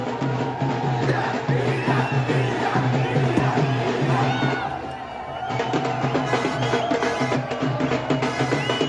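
Cricket fans celebrate India's T20 World Cup win in a Solapur street, waving Indian flags, a dense roar of cheering, shouting and chatter that carries on without a break.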